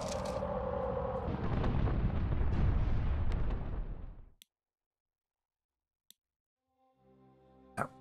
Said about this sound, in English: Let's commit a bombardment to it for this turn.